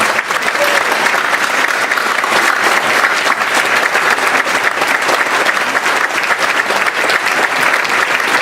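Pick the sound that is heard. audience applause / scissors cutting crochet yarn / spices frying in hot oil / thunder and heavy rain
audience applause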